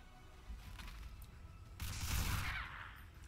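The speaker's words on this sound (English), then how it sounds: "Let's go for an electric bullet." A burst of electric bullet fire rings out in the game XCOM, a sharp crackling blast with a low thump that swells midway and lingers in a noisy tail, fairly quiet overall.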